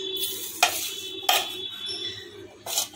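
Rice being stirred with a ladle through hot refined oil, a steady soft sizzle underneath with three sharp scraping strokes of the ladle against the pot, near and fairly quiet, no voices.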